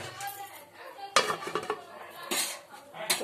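A lid set onto a pot of fish curry on the stove, with a few sharp close metallic clanks and a scraping rattle of cookware against a quiet background.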